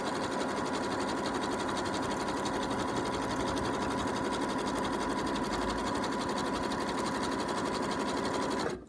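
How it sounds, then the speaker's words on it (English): A sewing machine stitches a straight line on an appliqué pencil case, its motor whirring steadily and loudly at close range for nearly the whole stretch before stopping abruptly at the end. "I've already started sewing a line down here, so that's now secure"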